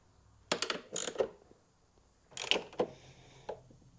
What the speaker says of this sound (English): So we're just gonna snug all these bolts down and leave it at that.